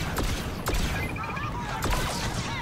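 Gunfire in the Star Wars Battlefront II campaign mission Until Ashes, a few sharp shots cracking over a busy mix of game noise and effects, with a voice talking over it.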